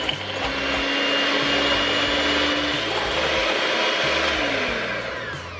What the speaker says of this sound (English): 1 cup of heavy whipping cream, and then we will just mix this until it